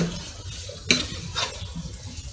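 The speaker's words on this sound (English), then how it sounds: "I'm going to add in the curry leaf, and I'm saving some curry leaf for later use. Stir fry this well." Curry leaves and fennel are stir-fried in a pan for liver fry, with a steady sizzle underneath and one sharp utensil clank partway through.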